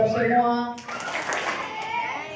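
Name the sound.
children clapping hands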